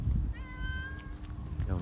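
A hungry street cat meows outdoors in a neighbourhood where cats are being fed liver. There is a single drawn-out meow, close and clear, over rough background noise.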